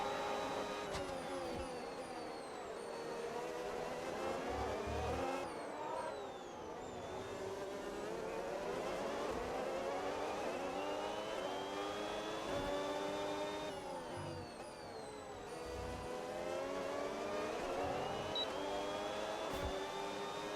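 Formula 1 race car engine in the F1 26 racing video game, a continuous, loud, whining drone whose pitch climbs repeatedly through the gears and dips briefly at shifts, heard alone without talk.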